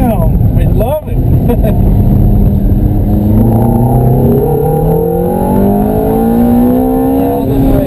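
A Ferrari accelerates hard around the Candlestick Park race track, its engine note climbing through rising harmonics with a brief dip at a gear change, loud and close from onboard, with people talking over it.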